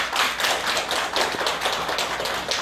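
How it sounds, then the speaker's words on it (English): Applause from a congregation after a spiritual teacher's sermon: crisp, steady clapping from a modest group of hands, fairly loud and close, continuing evenly without voices. "Let's hear a round of applause for him."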